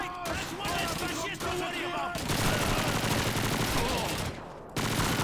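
Rapid bursts of PPSh submachine gun fire in Call of Duty 2's Soviet campaign, dense and continuous with brief gaps, mixed with other battlefield sounds and background voices.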